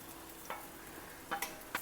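Cooked long grain rice being gently mixed in a pan, with a faint background sizzle broken by a few soft scraping stirs of a spoon.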